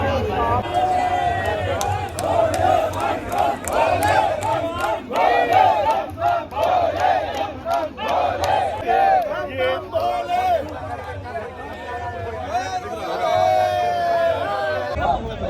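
A large crowd of Amarnath Yatra pilgrims chants "Bam Bam Bhole" loudly and continuously, the rhythmic shouts rising and falling over a busy crowd hubbub.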